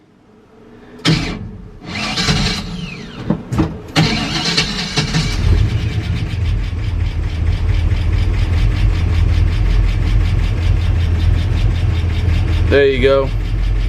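A classic C30 truck engine cranks with a few uneven bursts, then catches and settles into a loud, steady near idle; a person says a short phrase over the running engine.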